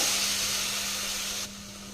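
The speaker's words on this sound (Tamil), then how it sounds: "இந்த மாதிரி 1 கை அளவு தண்ணி சேர்த்திக்கலாங்க." A handful of water poured onto frying vegetables in a hot pan sizzles in a steady loud hiss, dropping suddenly to a quieter hiss near the end, with a faint low hum beneath.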